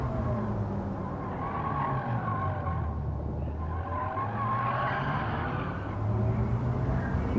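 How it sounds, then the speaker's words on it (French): A Chinese car accelerating from 0 to 100 in Gran Turismo 7, its engine roaring steadily with tire noise as the pitch climbs through gear changes, loud and continuous with no talk. "voyons ce que ça donne le 0 à 100"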